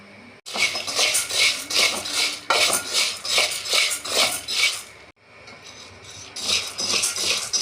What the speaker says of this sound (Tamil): நன்கு மனம் வரும் வரை வறுக்க வேண்டும்